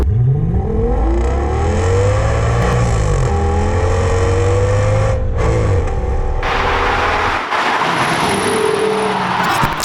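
A 2007 Audi S6's V10 engine revs hard and loud throughout, its pitch sweeping up and down in a howling wail, with a brighter roaring burst near the end.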